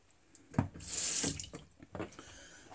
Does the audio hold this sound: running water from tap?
yes